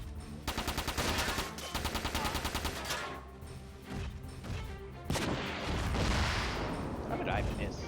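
Mech machine guns in the video game Front Mission 4 fire in rapid, evenly spaced bursts for a few seconds, followed by heavier booming impacts and a sustained roar. Game sound effects stay loud throughout.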